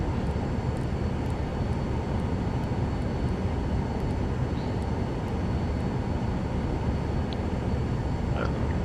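A Vision Jet climbs out in Microsoft Flight Simulator 2024, a steady dense roar of engine and airflow holding at constant loudness throughout with no voices.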